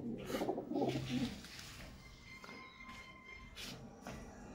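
A pigeon coos nearby in a few soft, throaty rolling calls, with faint shuffling and rustling between them.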